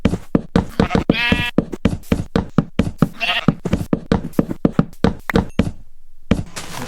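Sheep bleat twice in a Minecraft-style game, each a short nasal call rising amid a fast, steady run of loud, sharp knocking taps close by.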